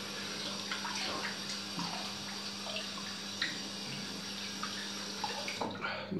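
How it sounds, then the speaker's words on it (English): A shaving razor blade rinsed under running warm water from a tap, a steady close splashing and trickling with small drips for several seconds, no voices. "Quick rinse off and ready for the second."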